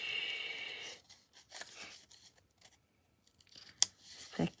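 Scissors snip through paper to cut out a greeting-card message, a few soft cuts and rustles early on and a couple of sharper snips near the end, close and quiet with no talking.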